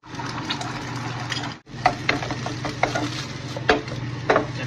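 Chicken and scrambled egg for chicken fried rice are stirred in a hot pan, a continuous sizzle broken by repeated scraping and clanking strokes of the spatula, close and fairly loud.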